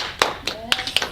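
A few sharp hand claps ring out, sparse and uneven, like a small group starting to applaud, with a faint voice in the background.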